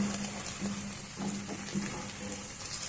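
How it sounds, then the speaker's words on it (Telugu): Onion pieces fry in a pan for a fish curry, giving a soft, steady sizzle close by with a faint low hum running beneath and no voices. "ఇప్పుడు ఉల్లిపాయ ముక్కలు వేసుకొని కొద్దిసేపు కొంచెం కలర్ వచ్చేంత వరకు వేయించుకున్నాము"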